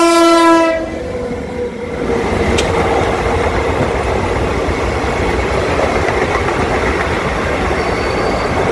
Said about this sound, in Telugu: నర్సాపూర్ లింగంపల్లి ఎక్స్ప్రెస్ అండి.